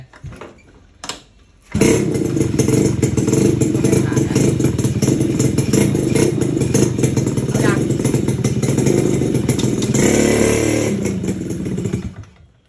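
A kick-started RC motorcycle with its ignition timing shifted clockwise sputters briefly, then catches and runs at a loud, steady, close rumble for about ten seconds before cutting out.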